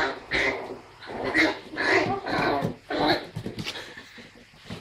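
A puppy whimpers and yips in a run of short, close, fairly quiet bursts with brief gaps between them.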